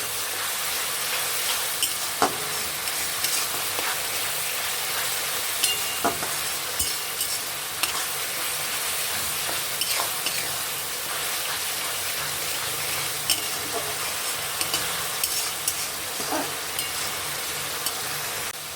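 Ground onion paste fries and sizzles in a pan for chicken chaap, a steady close hiss with occasional stirring scrapes and crackles throughout, no talking.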